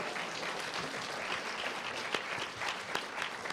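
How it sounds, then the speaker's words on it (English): Applause from an audience at a social justice panel discussion with Wyoming advocates, a dense, steady patter of many hands clapping throughout, with a few sharper claps standing out. "Can we get one more round of applause for these wonderful advocates for change?"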